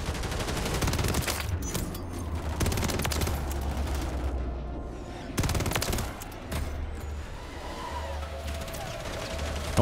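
Rapid overlapping bursts of automatic gunfire from swarm killstreak drones in Call of Duty MW3 fill the game mix, with dense fusillades, brief lulls and a faint voice beneath.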